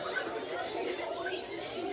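Children mimic a bird's tweet with their voices, a busy cluster of high, chirpy squeaks and chatter that runs steadily for about two seconds.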